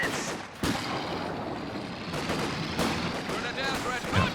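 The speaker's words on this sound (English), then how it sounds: "Machine gun ready to shoot some bastards." Gunfire in a Company of Heroes 2 3v3 match, with bursts of machine-gun fire and other shots crackling through a dense battle mix and a few sharper cracks standing out.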